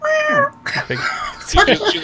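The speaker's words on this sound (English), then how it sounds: "Sorry that the broadcast was interrupted by cats" A cat meows loudly and close several times in a row, its cries overlapping with people talking in a casual indoor setting.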